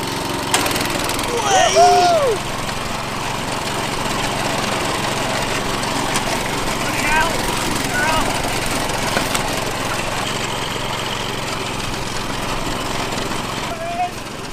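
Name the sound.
ride-on lawn mower running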